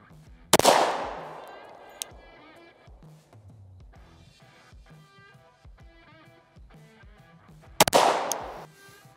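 Two loud, sharp pistol shots fired at a target during red dot sight-in, one near the start and one near the end, separated by a long stretch of quieter ringing and faint background noise.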